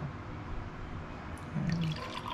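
Hot water poured from a thermos, a soft steady trickle and drip of liquid with a brief fuller splash near the end, heard close with no talking.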